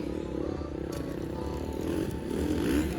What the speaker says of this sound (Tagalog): Ay, niandar na motor ni Jam.